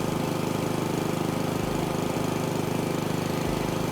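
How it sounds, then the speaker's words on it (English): A lawnmower engine runs steadily in the video game House Flipper 2, a continuous droning motor hum holding at an even, moderately loud level throughout, with no voices over it. "this fancy dancy lawnmower here"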